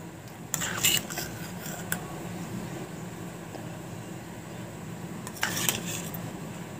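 A metal pot is set down on a stove and ghee is added, with a few sharp clinks and scrapes of cookware near the start and again near the end over a quiet background hiss.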